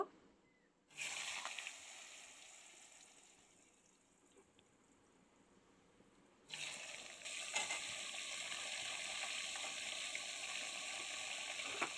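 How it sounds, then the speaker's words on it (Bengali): Cut potatoes and Malabar spinach stems sauté in hot oil. A soft sizzle swells up suddenly, eases off, then jumps back louder and keeps crackling steadily. "একই তেলের মধ্যে আমি এই যে কেটে ধুয়ে রাখা আলু আর পুঁই ডাঁটা কষিয়ে নেব"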